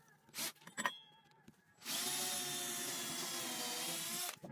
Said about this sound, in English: I'll then take my drill,